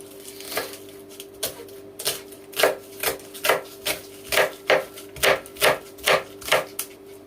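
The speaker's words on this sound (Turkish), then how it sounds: "Hemen soğanlarımızı da kesme tahtasında keselim." Onions are chopped with a knife on a wooden cutting board: a steady run of sharp, evenly spaced knocks, about two per second, close and distinct, with no voices over them.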